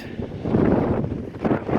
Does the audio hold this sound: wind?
yes